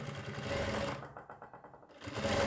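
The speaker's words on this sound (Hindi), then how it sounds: "यहाँ पर हम धागे को खींच के सिलाई लगाएंगे थोड़ी सी" A sewing machine stitches the collar of a designer kurti, running in fast steady whirring bursts, pausing briefly midway into a slower ticking rhythm, then resuming at full speed, close and clear with no talking.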